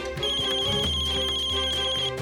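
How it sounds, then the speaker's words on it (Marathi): A mobile phone ringtone plays a loud, steady electronic melody up close, with no voices over it. "नाही, तात्यांचा फोन आहे."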